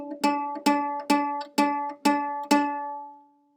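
Six plucked notes ring from a single string shortened with a finger, evenly spaced about half a second apart, each bright attack decaying into a sustained tone, the last fading out alone.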